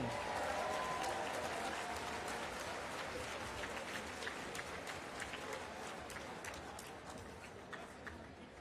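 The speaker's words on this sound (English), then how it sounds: "a big round of applause for the 3rd place team from Grant High School in Oregon" A large crowd applauds the third-place team from Grant High School, Oregon, at a national civics competition awards ceremony, with sustained, dense clapping that slowly thins as it goes on.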